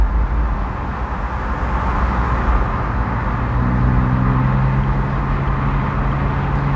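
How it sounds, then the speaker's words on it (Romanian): A BMW M235i Cabrio six-cylinder engine's exhaust gives a steady, deep, loud rumble with a rising tone near the end, heard from inside the car with no talking. "cu așa sunet în evacuare"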